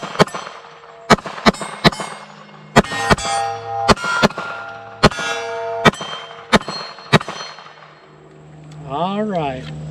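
Sharp, loud Glock pistol shots fired from a Magpul magazine ring off a steel plate, about a dozen spaced cracks each followed by a metallic clang, then someone speaks briefly at the end.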